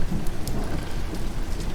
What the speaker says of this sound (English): you can hear the rain outside